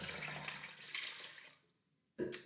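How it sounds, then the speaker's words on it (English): Water poured out of a jar, a close gushing splash that thins and fades to near silence, followed by a short final burst of trickling. "I need to pour it all out."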